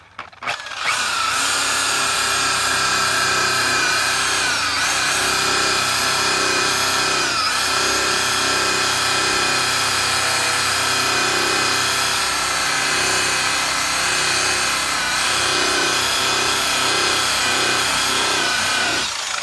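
A power polisher fitted with a 3M wool pad buffs an RV headlight, giving a loud, steady motor whine with a constant rubbing hum that runs almost unbroken from start to finish.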